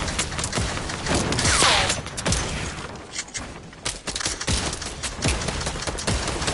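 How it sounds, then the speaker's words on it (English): Continuous rapid gunfire in a shooter video game, dense crackling bursts and repeated shots at steady loudness with no pauses. "just keep on shooting at him"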